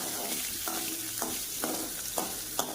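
Onions, dried red chillies and urad dal sautéing in a pan for tomato chutney, giving a steady sizzle broken by regular scraping stirs about every half second, close and moderately loud, with no talking.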